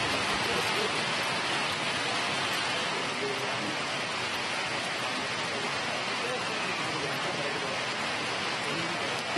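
Heavy rain pours down steadily in Bangalore, a dense, even wash of downpour on surfaces that continues without a break, fairly distant and uniform.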